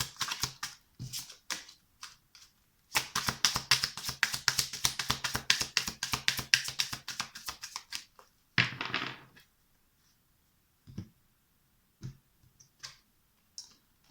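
Tarot cards handled over a table: a rapid, dense flutter of papery clicks like a shuffle, then a few isolated soft taps of cards being laid down, close and fairly quiet with no voice.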